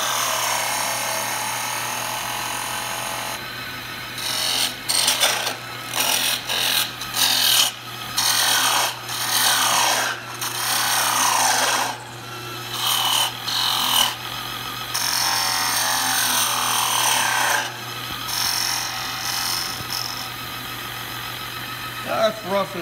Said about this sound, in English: I'm going to use a gouge. Just going to rough out.